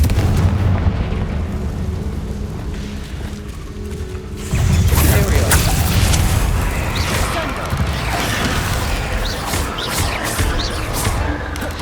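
Blasting spells from the Hogwarts Legacy video game go off as booming explosions, with a quieter stretch giving way at about four and a half seconds to a loud burst and rumbling, crackling aftermath.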